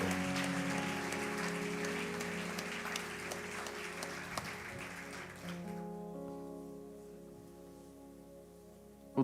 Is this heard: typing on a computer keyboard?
no